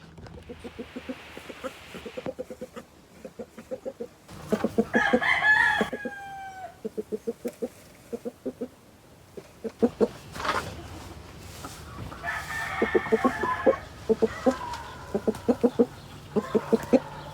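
Farmyard hens cluck in quick repeated bursts around a nesting box while a rooster lets out a loud crow partway through, the birds close by and busy throughout.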